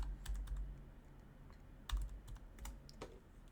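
Quick clusters of soft clicks from a computer keyboard as a name is typed in a game-engine editor, close and fairly quiet, with short pauses between bursts of keystrokes.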